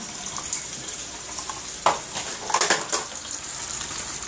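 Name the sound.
unfiltered tap water running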